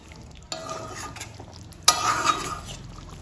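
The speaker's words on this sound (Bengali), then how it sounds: "এবার সব কিছু ভালোভাবে মিশিয়ে নেব।" Chicken do pyaza with chopped onion and tomato being stirred in a pan, a steady low sizzle with scraping strokes of a spatula and a sharper clatter of utensil against the pan midway.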